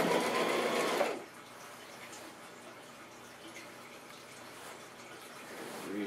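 A sewing machine back stitches while making a handmade purse, giving a short whirring burst of about a second that cuts off into near silence.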